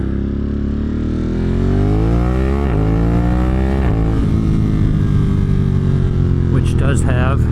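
A 2022 Ducati Monster Plus motorcycle fitted with a Termignoni exhaust system, heard on a ride as the engine revs climb and drop through gear changes, loud and close with constant wind rush.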